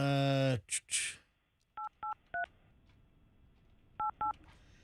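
A short voice and a breath, then five crisp telephone dialing tones beeping in two quick groups, clear and close on a quiet line.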